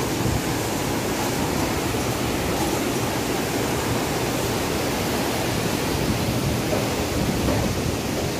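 Water rushing through four open dam gates at a construction site in Burundi, a loud, unbroken roaring wash of noise heard close by throughout.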